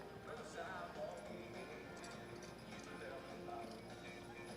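Horses pulling carts in a ladies' pleasure single cart show-ring work-off give soft, steady hoof clip-clops, faint and distant beneath a broad wash of arena noise.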